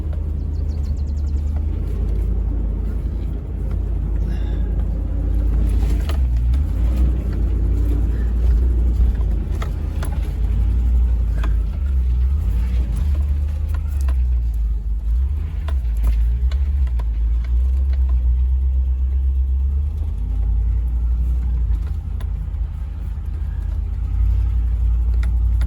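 Land Rover driving on an off-road trail toward a mercantile behind an old 109 pickup, a loud continuous low engine rumble with bumps and rattles throughout.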